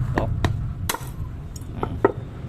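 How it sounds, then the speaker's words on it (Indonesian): Hard metallic taps from a strong hammer on a valve tool opening a motorcycle engine valve, about six sharp close knocks spaced irregularly over low background noise. "Untuk membuka klep gunakan seperti ini dan palu yang kuat ya."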